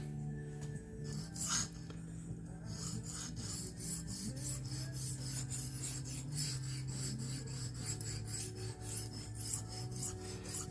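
A small knife honed freehand on a Norton India oil stone gives steady, close rasping strokes in an even back-and-forth rhythm, with a faint low tone running underneath.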